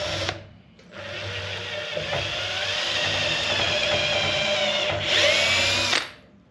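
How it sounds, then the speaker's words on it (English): A power drill bores into the rubber bushing of a C10 pickup's trailing arm, a loud, sustained whining buzz that runs for several seconds after a brief start-stop, then cuts off. "I basically just drilled into the rubber part."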